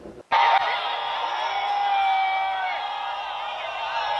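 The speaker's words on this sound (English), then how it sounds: "She's getting booed." An audience at the Miss Universe pageant boos a contestant, a loud sustained crowd roar that bursts in after a brief quiet moment and holds steady to the end.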